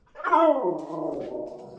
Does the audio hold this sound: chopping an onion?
no